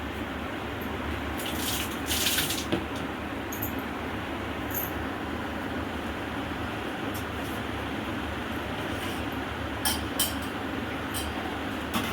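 Continuous splashing of water running from a tap, steady and close, with a few brief clinks of washing in between.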